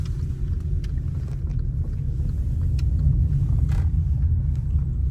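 Steady low rumble of a car's engine and road noise during an Uber ride through busy market traffic in Qatar, loud and continuous throughout with no talking.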